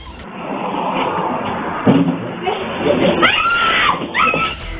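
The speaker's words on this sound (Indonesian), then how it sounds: "Korban sontak berteriak minta tolong hingga warga sekitar berdatangan" A robbery victim inside a shop screams for help after an attacker armed with a sharp weapon grabs them, in thin, muffled CCTV sound where rising wails cut over a busy background of voices.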